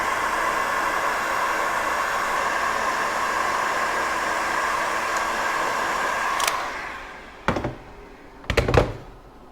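A heat gun blows a steady, hissing roar over heat shrink tubing on a crimped cable for several seconds, then cuts off, followed by a few hard clunks and taps.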